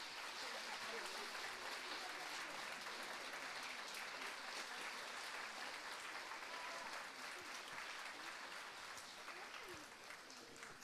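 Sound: applause at dance show

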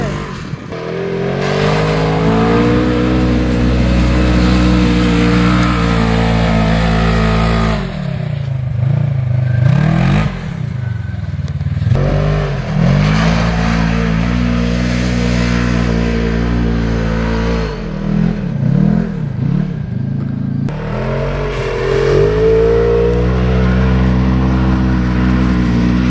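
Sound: Polaris Sportsman 570 ATV engine revving while riding

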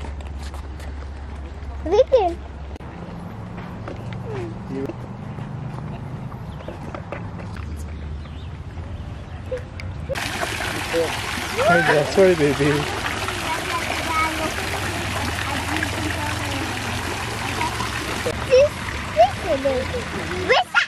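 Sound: flowing water near a playground

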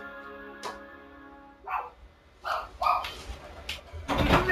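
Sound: dog barking

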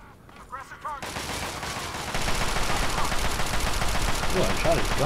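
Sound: gunshots in the video game Fallout 3

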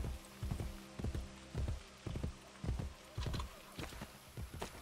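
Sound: horse hooves clip-clopping in Assassin's Creed Brotherhood video game

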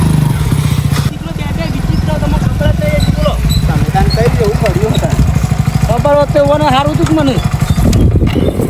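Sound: motorcycle engine started and running

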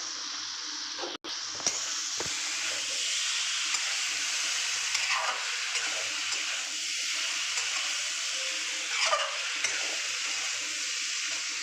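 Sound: stir-frying soybean curry masala with potatoes

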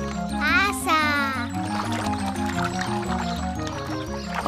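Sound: water running from a garden hose

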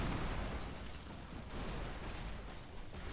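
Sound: explosions in a video game

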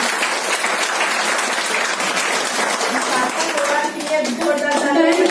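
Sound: audience applause

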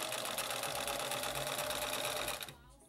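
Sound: sewing machine stitching fabric for suits

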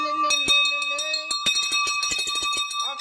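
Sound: YouTube notification bell sound effect

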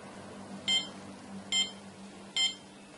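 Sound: soil moisture alarm beeping

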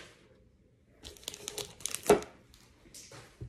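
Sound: snipping and opening Pokémon card pack wrapper

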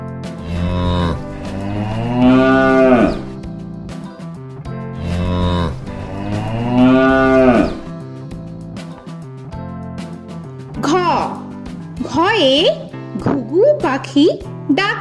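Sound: cow and calf mooing

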